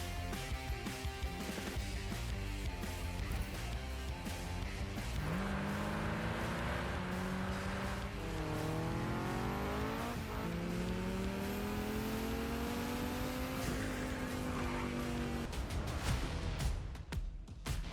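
Demolition race cars in Wreckfest 2 roar continuously, engines revving up and down through gear changes as several cars pass close by, loud and unbroken with no voices.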